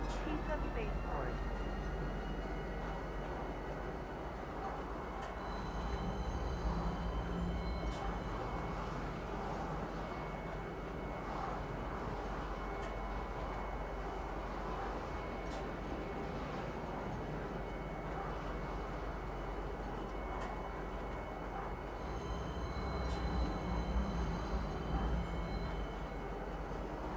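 A train pulls into Tisa Spaceport in a video game, its steady low rumble and rolling rail noise running the whole time at moderate level beneath an automated announcement voice.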